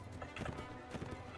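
Horse hooves from the Mount & Blade: Warband video game, a quick run of muffled clip-clop beats over a steady low game-audio bed.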